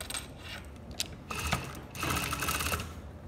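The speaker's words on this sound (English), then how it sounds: "Now we are on the machine, so we're going to join the lining with the self on the neckline" A sewing machine stitches a dress lining to the self fabric around the neckline in short bursts, its needle whirring in two louder runs separated by brief pauses, close up and with no talking.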